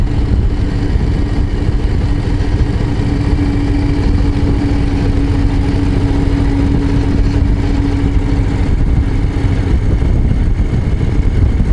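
A Harley-Davidson Low Rider ST motorcycle rumbles steadily and loudly while riding a mountain pass, a continuous close engine drone with wind noise and no talking.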